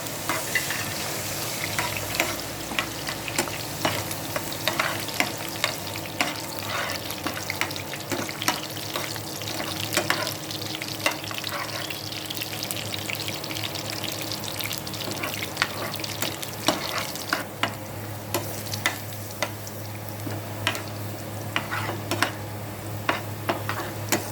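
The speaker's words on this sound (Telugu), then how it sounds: "ఎండుమిర్చి, ఎల్లిపాయ రమ్మలు, కొంచెం పోపు దినుసులు ఆయిల్ వేసుకొని బాగా వేయించుకోవాలి" Dried chilies, garlic cloves and tempering spices fry in oil with a steady sizzle, punctuated by frequent scraping stirs and clinks of a spoon against the pan.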